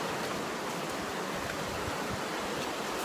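Steady, loud rushing of a strongly flowing river on a waterfall hike in Bandarban, Bangladesh, a continuous broadband wash of water with no voices.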